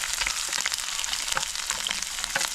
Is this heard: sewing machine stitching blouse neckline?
no